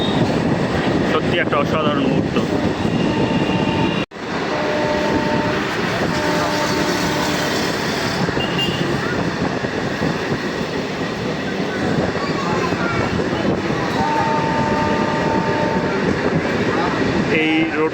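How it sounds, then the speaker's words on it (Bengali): A special inaugural passenger train runs on the rail line from Krishnanagar toward Amghata, a loud, steady rumble of wheels on track heard from on board, with brief horn-like tones and someone talking over it. "দেখুন ট্রেন চলছে।"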